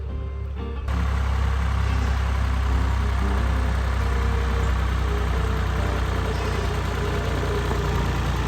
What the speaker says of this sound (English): We've got a tractor coming to the rescue now.